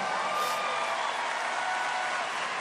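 An audience applauds a performer at a live show, a dense steady wash of clapping that holds at an even level throughout with no voices over it.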